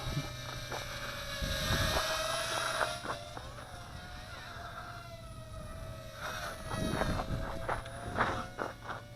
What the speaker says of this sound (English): Now I got a breeze coming in my face right now, about 3 to 5 knots